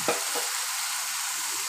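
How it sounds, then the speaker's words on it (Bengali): Pieces of fried fish dropped into a sizzling potato and fish curry in a pan, a couple of soft thumps over a steady, close frying hiss. "এবারে মাছ ভাজাটা আমি দিয়ে দেবো এর মধ্যে।"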